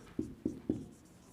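A pen or chalk writes notes for a geography lesson, three quick, evenly spaced strokes tapping and scratching close by at low volume, with no talking over them.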